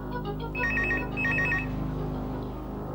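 A telephone rings for an incoming call, two bursts of electronic trilling bell tones, close and clear, before fading into quiet.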